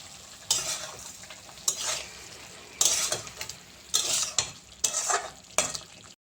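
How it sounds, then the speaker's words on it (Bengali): Spices for chicken makhani stirred in a sizzling pan, a spoon scraping and clinking against the metal in irregular strokes over a steady low fry, close and without speech. "মশলাগুলোকে ভালো করে মিক্স করে নেব।"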